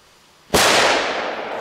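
A single market-bought firework goes off with a sudden loud bang, followed by a long hissing, crackling tail that slowly fades, close by and outdoors.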